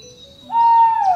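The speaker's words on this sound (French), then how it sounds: "Oh, j'entends un oiseau chanter." A bird in an animated cartoon gives a clear, sustained whistled note that slides slightly upward, close and alone without any talking.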